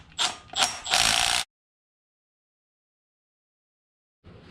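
Ratcheting wrench work on E12 external Torx flywheel bolts of a 2006 Mustang 4.0 V6, three quick close clicking bursts over about a second and a half, then silence before a faint noise returns at the end.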